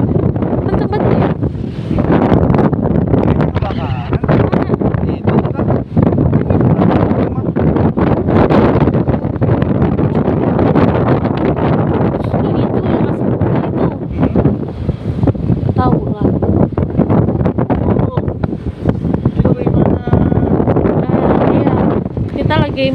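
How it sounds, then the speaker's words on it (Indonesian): Strong wind buffets the microphone with a constant loud roar and rumble for the whole stretch, and voices talk underneath it. "Anginnya kenceng tapi guys"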